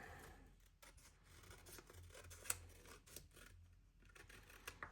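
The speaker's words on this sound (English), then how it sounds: "Trim that off, and then just if there's any excess on the edges." Scissors trim excess paper off a handmade Christmas card in a quiet room, making a few faint, soft snipping cuts spread over a few seconds.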